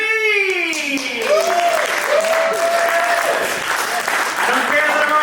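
A comedy club crowd applauds as a comic takes the stage, with sustained clapping and cheering running throughout while the performer's voice carries over it with drawn-out, shouted phrases.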